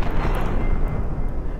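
Rifle gunshot in the video game People's Playground, a loud broadband blast whose dense crackling roar fills the whole short moment and fades only slightly toward the end.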